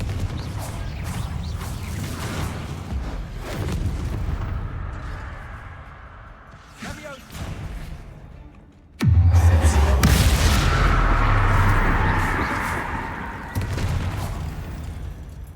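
A Confringo blasting-spell explosion in a Harry Potter video game: a sudden loud, close boom with a thick low rumble and crackling debris that rings out for several seconds, after quieter rustling and impacts.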